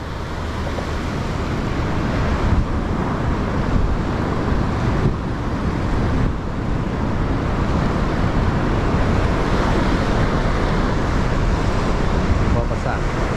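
Ocean surf at Torrey Pines beach in La Jolla makes a steady, loud broadband roar of breaking waves that is dense and continuous, with wind buffeting the microphone throughout.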